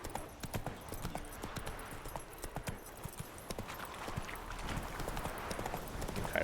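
Horse hooves clip-clop steadily in The Witcher 3 video game, a continuous rhythmic trot of moderate loudness with a faint whinny now and then and no talking.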